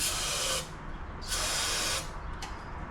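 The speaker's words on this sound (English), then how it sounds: "Let's spray it again and crank it one more time." Bursts of aerosol spray shot into the engine of a 1956 Volkswagen Beetle that will not start: a long hiss, a pause, a second long hiss, then a short final puff, close and loud with no talking.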